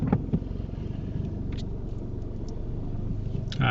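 A car reverses slowly into a parking space during a driving test, a low steady engine rumble from inside the vehicle with a few faint clicks and thumps over it.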